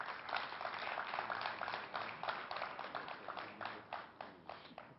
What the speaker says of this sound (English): maybe give all three presenters a round of applause, please